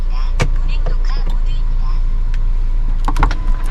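A Mercedes-Benz CLA250 4Matic petrol engine idles with its windows open, a steady low hum punctuated by scattered mechanical clicks and taps from inside the car.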